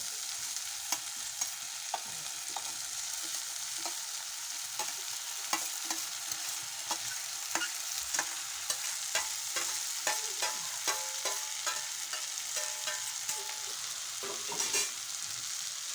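Horse gram and onions fry steadily in a pan on the stove, with a constant sizzle and repeated scraping, clattering stirs at an irregular rhythm throughout, close and moderately loud, no one talking.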